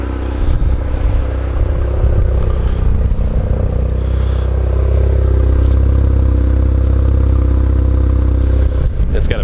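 A turbocharged 2005 RX8 with a BHR mid-pipe and Turbo XS exhaust idles with a steady, deep, throbbing rumble and light mechanical clatter that stays at an even level throughout.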